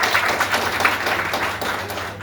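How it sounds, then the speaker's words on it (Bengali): A crowd at a Magnesa Group training program gives a dense, steady round of applause, many hands clapping at once throughout. "ম্যাগনেজার জন্য একটা জোরদার করতালি।"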